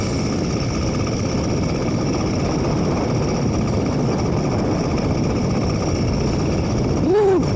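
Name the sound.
air-cooled motorized bike engine riding in winter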